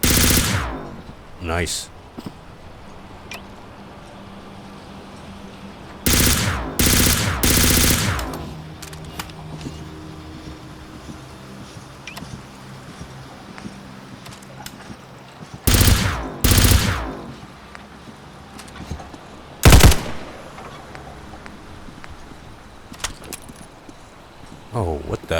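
A modded gun fires in Fallout 4 VR, loud rapid bursts of automatic shots in several separate strings, with quieter ambience and a man's occasional remarks between them.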